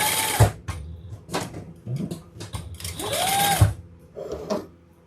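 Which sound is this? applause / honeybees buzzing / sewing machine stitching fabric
sewing machine stitching fabric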